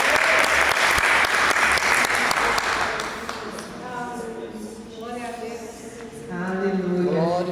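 Applause for Jesus rings out in a church, loud sustained clapping from a congregation for about three seconds, then fading as a voice speaks over it.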